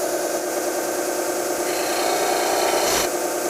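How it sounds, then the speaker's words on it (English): An acrylic pen blank is sanded down to its brass tube, giving a steady close rasping, grinding hiss with a ringing tonal layer that shifts and brightens briefly near the end. "you'll be able to hear the difference when you're sanding it. It'll have a different ring and a different tone."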